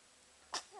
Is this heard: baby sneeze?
yes